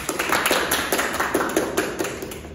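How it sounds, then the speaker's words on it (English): Classroom audience applauding for a student presenter, a steady patter of claps at moderate level with no voices over it. "Give applause to Husnul."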